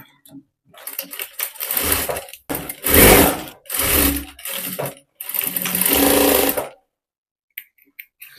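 A sewing machine stitches a blouse seam from the armhole downward, running in several loud, close bursts of rapid mechanical whirring broken by short pauses, then stopping, with a few faint taps at the end.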